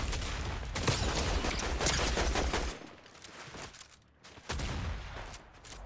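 Sustained rapid gunfire from an assault rifle in a Fortnite Zero Build match, dense and loud bursts rattling continuously, dropping briefly to a lull before another burst resumes.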